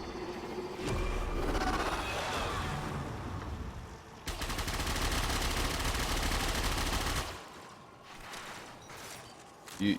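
The Furis automatic gun firing in the video game Warframe, a fast steady stream of shots in two long sustained bursts, loud and close, with game sounds after.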